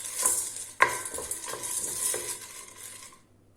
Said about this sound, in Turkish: İçine 1 çay bardağı mısırımızı kattık. Şimdi karıştırıyoruz.